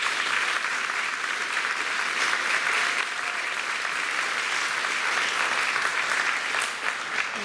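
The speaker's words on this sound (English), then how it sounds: "Another round of applause for our" Sustained audience applause at a high school senior scholarship awards night, many hands clapping in a dense, even roar that holds steady at full strength throughout, with no voices over it.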